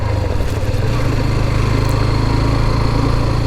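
Hero Xtreme 125R motorcycle engine running steadily on a ride, a close, continuous low drone with a constant even hum throughout and no talk.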